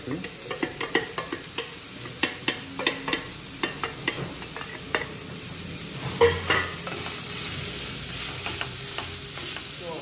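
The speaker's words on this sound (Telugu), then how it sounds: "ఆనియన్స్ వేసేసుకుంది." Onions fry in a pan with a steady background sizzle, and a spoon scrapes and taps against the pan in quick, irregular strokes through the first half before the frying carries on alone, with no talking.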